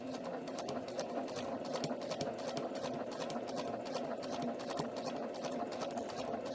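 A sewing machine stitches fabric at a steady, rapid rhythm, its motor humming evenly underneath close-up mechanical ticking, running continuously with no talking.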